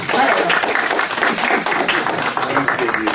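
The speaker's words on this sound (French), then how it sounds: "je vous demande, évidemment, mesdames et messieurs, bien d'applaudir notre conférencière pour lui souhaiter la bienvenue" Audience at a French lecture on the Comète network applauds to welcome the speaker, a loud, close, steady patter of many hands with a few voices mixed underneath.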